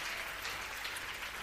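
A church congregation applauds together, a dense, even patter of many hands clapping that is faint and distant, with no break across the short span.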